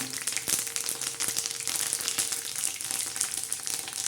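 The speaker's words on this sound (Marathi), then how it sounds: "लगेच त्याच्यामध्ये बघा कढीपत्ता टाकायचा आता हा कढीपत्ता टाकला ना" Curry leaves sizzle and crackle in hot oil in a cast-iron kadhai, a dense steady frying hiss with sharp pops near the start, close up and without speech.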